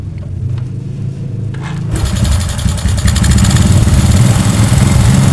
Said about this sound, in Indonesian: Di sini motor menyala.